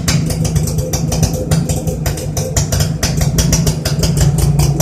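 A rebuilt Suzuki AX 100 motorcycle idles close by, its small engine putting out a loud, fast, steady popping exhaust pulse through the silencer with no voices over it.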